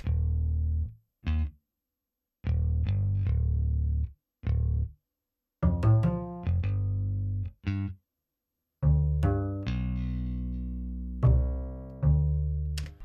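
A Rickenbacker electric bass and a double bass play a punchy, staccato line together, short plucked notes separated by brief silences, with a deep low end and a brighter, resonant upper attack.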